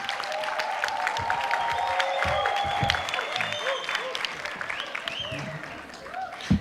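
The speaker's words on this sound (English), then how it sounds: "Let's clap hands for them." Audience applause at the SATVETSA Conference 2024 greeting people who arrived late, steady dense clapping from a crowd lasting throughout, with a voice speaking over it.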